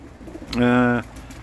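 One short, close pigeon coo rises clearly above a low background hum, lasting under half a second.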